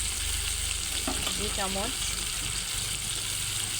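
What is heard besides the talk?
ginger garlic paste and spices sizzling while frying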